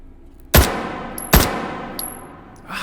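UMP-9 submachine gun firing in the VR shooter H3VR: two sharp, loud single shots about a second apart, each with a ringing metallic tail, followed by faint clinks.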